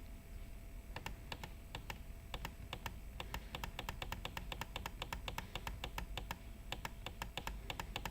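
Rapid, uneven keystrokes on a computer keyboard, with bursts of close, crisp clicks and short pauses, including repeated backspace presses while correcting a mistake during polygon digitizing work.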